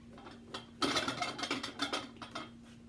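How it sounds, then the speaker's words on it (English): A utility knife cuts through the stitching thread of a boot sole during a resole, a close series of quick scratchy, ratcheting snips in an uneven rhythm, with no speech. "we're going to cut the thread as carefully as we can right at that line there"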